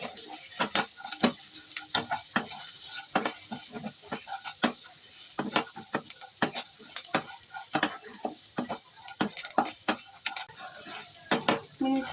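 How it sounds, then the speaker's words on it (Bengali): Poha of flattened rice with turmeric, salt and sugar is stirred in a pan, giving brisk, irregular scraping strokes with a soft sizzle underneath, close and steady throughout with no talking. "মিনিট খানিক এভাবে একটু নাড়ি চাড়িয়ে নিচ্ছি।"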